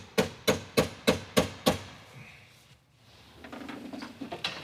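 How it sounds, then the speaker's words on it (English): Six sharp, evenly spaced hammer blows drive window felt strips into the doors of a project car in a garage, followed by quieter clattering and lighter taps. "I'm pretty sure you're not supposed to do it with a hammer"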